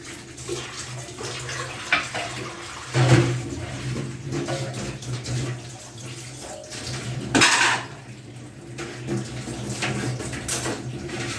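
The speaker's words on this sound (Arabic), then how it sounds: "هنغسل بقى الطبقين دول" Two plates being washed in a kitchen sink, with running water, plates and utensils clattering and scraping close by, and occasional louder clinks.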